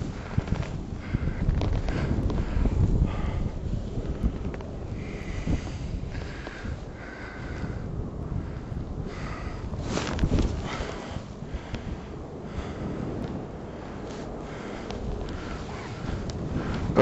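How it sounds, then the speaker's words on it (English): Wind buffets the helmet microphone in steady, rumbling gusts during a parachute descent with a WWII airborne demonstration team, low and rough with occasional louder blasts. "there's still a fair little bit of wind up here."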